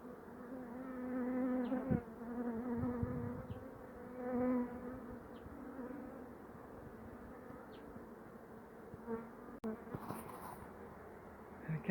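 Bees hum in a steady, droning buzz while three hives are moved out of a house, with the swarm's pitch wavering and swelling in places and a few faint knocks and handling sounds.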